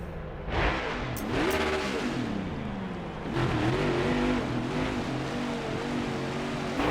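A loud NASCAR Heat 5 video game race car engine revs and roars continuously, its pitch rising and falling with acceleration and gear shifts, with no talking.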